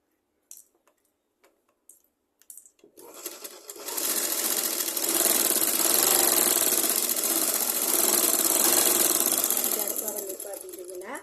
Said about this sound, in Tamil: இன்னொரு தையல் போட்டுறேன்.